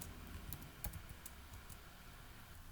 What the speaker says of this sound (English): Typing in time